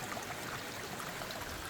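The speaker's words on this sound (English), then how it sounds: "you can see the water's running right through this clay" Water runs through slippery glacial clay on a Pleistocene slope north of the Fraser, a continuous, even trickling hiss heard alone at close range.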